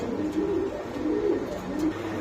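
A cream-colored pigeon at a pigeon market coos several times in soft, low, rolling calls, close by over a faint background hum.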